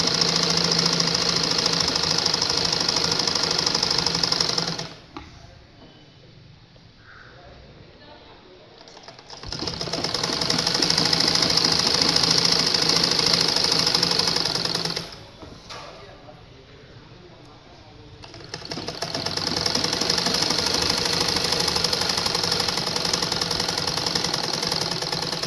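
Sewing machine stitching two layers of a petticoat together, running in a steady, loud mechanical whir in three long bursts with short quiet pauses between them.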